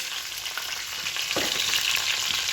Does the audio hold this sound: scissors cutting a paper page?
no